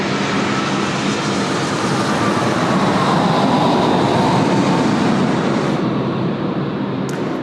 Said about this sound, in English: Qantas 4 about to fly over our heads, actually.